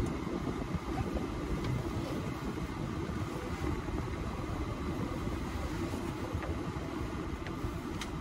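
A 2002 Volkswagen EuroVan camper van on the move, with a steady low engine and road rumble lasting throughout, continuous and fairly even in level, heard from inside the cabin with no talking.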